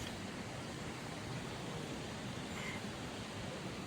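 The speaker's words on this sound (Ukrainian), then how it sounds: "Ой, там тоже водоспад есть." A small waterfall in the mountains makes a steady, soft broadband rush of falling water, continuous and even throughout, heard from a moderate distance with no voices.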